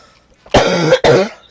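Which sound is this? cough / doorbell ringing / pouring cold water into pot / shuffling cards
cough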